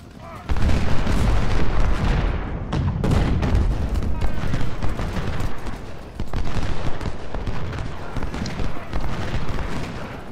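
Cannon fire booms and rumbles in dense, overlapping bursts from Civil War artillery batteries in the strategy game Ultimate General: Civil War, loud and continuous, with a voice talking over the battle.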